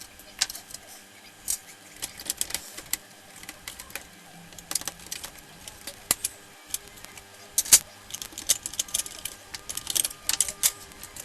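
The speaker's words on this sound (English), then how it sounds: "then remove the DVD drive." An Xbox 360 console is being taken apart for a red-ring repair as its DVD drive is pulled out, giving a run of close plastic clicks, scrapes and rattles in irregular bursts, with no speech.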